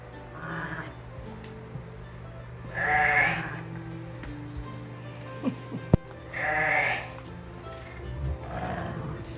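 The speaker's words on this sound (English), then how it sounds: "It's a guttural murmur that comforts her lambs and lets them know She is attending them and keeping them safe." A Shetland sheep ewe on a farm gives low, guttural mothering murmurs to her lambs at breakfast time, two or three soft rumbling bursts spaced apart, fairly close, over a steady background hum with a brief knock in the middle.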